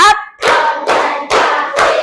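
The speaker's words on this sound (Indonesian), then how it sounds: "Bu Guru pengen minta tepuk 1, tepuk 1, tepuk 2, tepuk 3, tepuk 4" A group of students in a classroom claps a counted pattern, several sharp, loud group claps landing in an even rhythm about half a second apart, with a brief vocal sound at the start.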